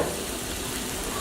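Ribeye steak frying in olive oil in a pan, a brief, steady, crackling sizzle at moderate level with no voices.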